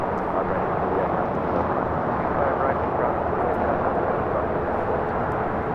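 A United Airlines Boeing 787-10 Dreamliner taking off from LAX for Tokyo Narita produces a steady, distant jet roar, broad and even throughout with little change in level.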